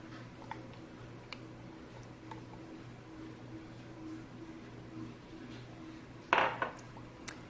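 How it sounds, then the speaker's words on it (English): Extra virgin olive oil being stirred into cookie batter in a mixing bowl, with soft scraping under a low hum, light utensil ticks against the bowl and a sharp clink near the end. "Give that a stir."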